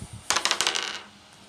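A die for a tarot reading clatters as it is rolled, giving a quick burst of bright rattling clicks that bounce several times and settle within about a second.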